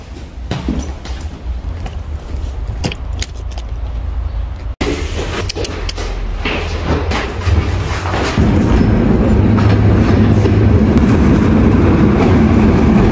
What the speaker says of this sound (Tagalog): Ito na yung train namin.